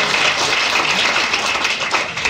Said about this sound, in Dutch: Geef me even een applaus, man.